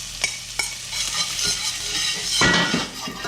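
Red onions and corn sautéing in butter in a pan, a steady close sizzle broken by the scrape and clink of a stirring utensil, with a louder burst of frying near the end.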